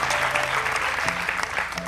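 A studio audience at an Indonesian television talk show applauds, a dense wash of clapping that carries on steadily, with a voice briefly heard over it.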